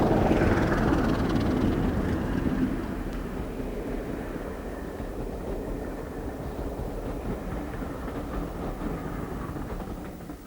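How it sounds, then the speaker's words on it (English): A British Rail Class 37 diesel locomotive with a Ruston engine passes at a distance, giving a loud, steady throbbing roar that eases slightly after a few seconds and continues as a broad rumble with faint rail noise. "The 37-9s were unusual in that they were powered by Ruston engines, which gave a totally different sound to their more common English electric sisters."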